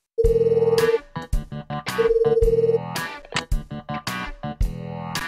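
A phone ringback tone in a PSP video game repeats in steady pulses, with a sustained tone alternating with choppy electronic music-like bursts, loud and close.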